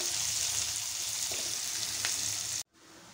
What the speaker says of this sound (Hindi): जीरा हमारा लाल होने के बाद हम कांदा डाल देंगे। कांदा हमें थोड़ा गोल्डन करना है।